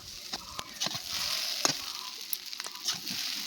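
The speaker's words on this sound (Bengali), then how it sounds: "খুব সুন্দরভাবে মিশিয়ে নাড়াচাড়া করে দেখো আমাদের চাউমিনটা কিন্তু ভাজা ভাজা হয়ে গেছে প্রায়" Chowmein noodles sizzle steadily as they are stir-fried in a home kitchen pan, with several sharp scrapes and clinks from the stirring utensil cutting through the continuous frying hiss.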